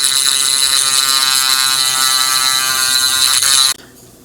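A rotary tool fitted with a stone cone bit smooths a plastic Astra Militarum Hydra/Wyvern model kit part, a loud, steady high-pitched buzzing whine held for several seconds before stopping abruptly.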